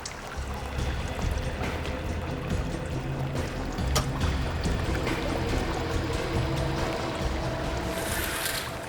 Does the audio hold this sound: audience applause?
no